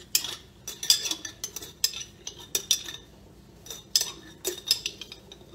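A metal spoon clinks and scrapes against a crock pot while scooping regular grape jelly, making a quiet run of irregular taps and scrapes with short pauses and no voices.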